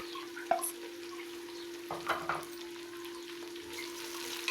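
Onion, tomato and green chilies fry for kadhi while a spoon stirs them, giving a steady sizzle broken by scraping bursts over a constant low hum, with no voices.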